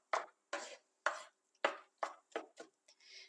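Fresh tomatoes chopped in a manual pull-string chopper: about eight sharp, rhythmic whirring rasps, one per pull, close and clear, ending with a softer, longer final spin.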